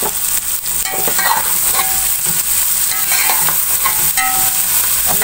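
Ground red chili and turmeric roast in a hot pan, giving a loud, steady sizzle with scraping stir strokes throughout, close and with no voices.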